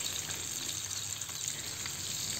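Pork belly frying in a pan, a steady close hiss and sizzle with faint popping, heard alone and evenly throughout.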